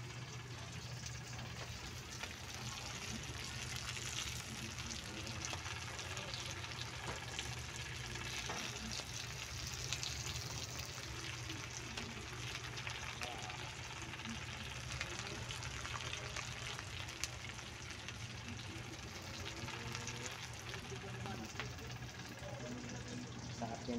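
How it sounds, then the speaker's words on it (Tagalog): Tuyo, dried fish, fries in a pan with a continuous soft crackling sizzle that stays steady and close for the whole stretch, faint in level. "naluto na po yung pritong tuyo po natin guys"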